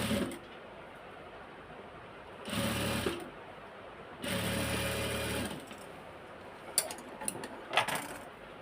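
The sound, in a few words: sewing machine stitching a garment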